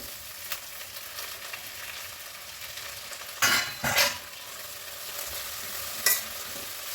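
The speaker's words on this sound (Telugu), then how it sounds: "ఇప్పుడు ఈ మెంతి కూర వేసుకుందాము తాలింపులో." Steady sizzling of fenugreek leaves frying in hot oil tempering, with a few louder bursts of stirring and scraping in the pan.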